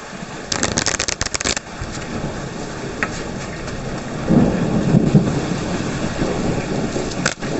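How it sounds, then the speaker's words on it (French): Heavy rain pours down in a loud, steady roar, with sharp crackles early on and low thunder rumbling through the middle, close and continuous with no one talking. "je veux que vous entendiez la pluie."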